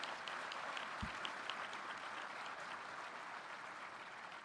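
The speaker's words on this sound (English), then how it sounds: "So if we could give all those folks a great round of applause and say thank you for what they do." Outdoor crowd at a July 4 naturalization ceremony at Monticello applauding veterans and law enforcement, steady, somewhat distant clapping with a single sharp thump early on.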